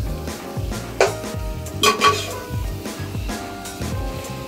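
Onion and tomato sautéing in a pan for chicken biryani, with steady stirring scrapes and soft clinks of a utensil against the pan over a low sizzle; no one speaks.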